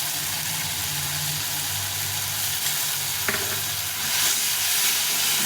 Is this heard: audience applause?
no